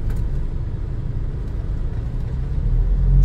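A Nissan Evalia fitted with a Blackcore unit revs under the accelerator with a deep, steady engine rumble that swells louder toward the end, heard close and with no talk.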